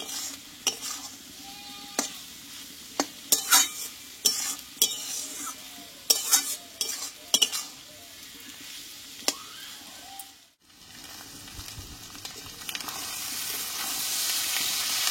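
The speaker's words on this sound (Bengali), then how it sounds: "একটু নাড়াচাড়া করে এইভাবে কিন্তু ভেজে নিতে হবে আলুটাকে" Boiled potatoes are stirred and fried in fish oil, a spoon scraping and clinking repeatedly against the pan over soft sizzling, with a brief lull before a steady, rising fry hiss takes over.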